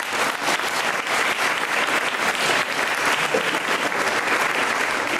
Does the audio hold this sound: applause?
yes